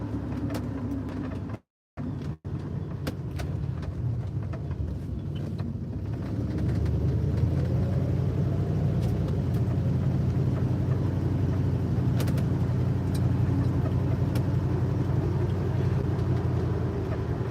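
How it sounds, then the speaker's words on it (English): A Chrysler 300 driving on the road, with a steady low engine and road rumble from inside the car that rises slightly after a brief dropout near the start, continuous and fairly loud. "I figured I'm gonna come out and put a couple of miles on the 300 and just drive around a little bit"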